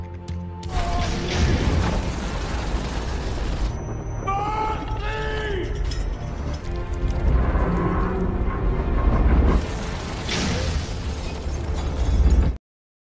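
Lamps and electronic devices bursting in a sudden explosive blast, with loud crackling and popping bursts that swell over a sustained rumbling roar, followed by a second heavy surge before cutting off abruptly.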